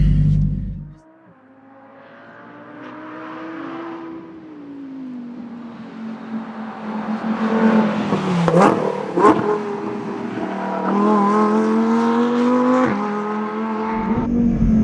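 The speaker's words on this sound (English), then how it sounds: "Lap of Imola in the brand new Lamborghini Huracán Performante. Oh, there's your revs in your V10." A Lamborghini Huracán Performante's V10 engine revs on the Imola track, pitch climbing and dipping through gear changes with sharp blips and a steady, loud howl from inside the car.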